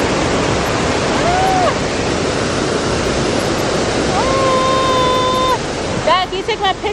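Roswell Mill waterfall pours in a steady, loud broadband rush that fills the whole clip, with bird-like whistles and voices faintly over it near the end.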